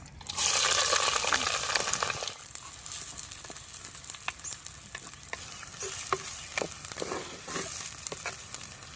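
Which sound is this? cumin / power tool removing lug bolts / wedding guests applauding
cumin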